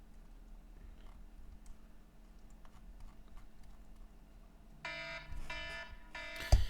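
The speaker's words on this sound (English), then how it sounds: "that's the timer going off" A timer alarm starts beeping near the end, a few bursts of rapid electronic beeps that come in clearly over a quiet room with faint tapping before it.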